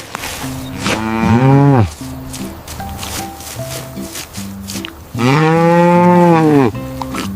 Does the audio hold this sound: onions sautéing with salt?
no